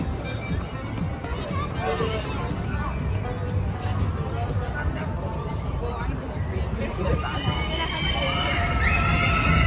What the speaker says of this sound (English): That's the typical sound you're gonna hear at an amusement park. The sound of people screaming.